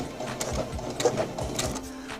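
A sewing machine backstitching a chiffon hem runs in a rapid rhythmic whir, its motor pulsing with a few quick surges, close and alone.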